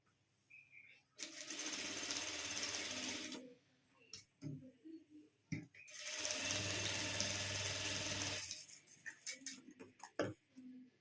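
A sewing machine stitches a puff net sleeve in two steady, fast-running bursts of about two seconds each, with quiet handling and fabric rustle between them.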